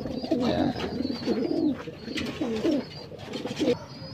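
Pigeons in a loft squabble and coo, with low throaty rolling coos repeating every second or so, scuffling and wing noise underneath and faint chirps above, close by and steady.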